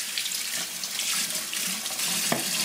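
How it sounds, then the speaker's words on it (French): Tap water runs steadily over a rinsed part of a Dreame H11 Max cordless wet-dry floor washer, a continuous close splashing hiss with no talk. "On rince cette partie."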